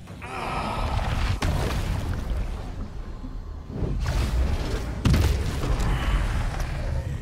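Busy Baldur's Gate 3 combat sounds: a steady roar of blasts and whooshing spell effects, with sharper impacts and shot-like bursts near the middle and toward the end.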